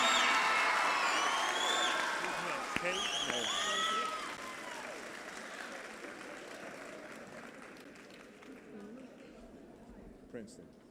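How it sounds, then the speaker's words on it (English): An audience at a middle school awards ceremony applauds the graduating eighth-grade class. Dense clapping is loudest at first, then gradually fades, with a voice speaking over it. "Give one last round of applause for your class of"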